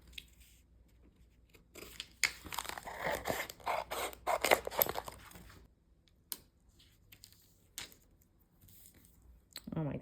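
Transfer tape for permanent vinyl being pulled, handled and cut at a Christmas craft table: a few seconds of crinkly scraping and tearing, then sparse sharp snips and rustles, close and fairly loud.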